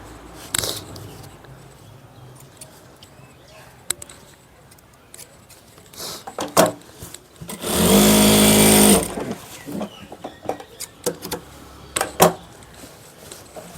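A sewing machine stitching the back pocket of a trouser runs in one loud, steady burst of about a second, set among scattered ticks, clicks and fabric handling noises.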